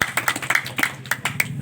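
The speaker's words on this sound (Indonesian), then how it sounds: "Tepuk tangan dulu dong buat Tuan." A small audience claps at a regional head candidate's campaign gathering, brisk uneven hand claps close by that form a short burst of applause with no talk over it.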